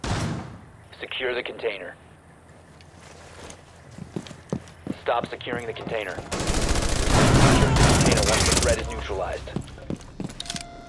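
Rapid automatic gunfire in the Rainbow Six Siege video game rattles loudly for a few seconds near the end, with earlier scattered shots, movement and a person talking throughout.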